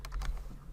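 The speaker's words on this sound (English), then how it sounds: "Look at the minute I start typing" A computer keyboard is typed on during form data entry, a brief burst of a few quick close key clicks.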